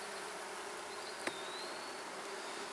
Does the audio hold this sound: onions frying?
no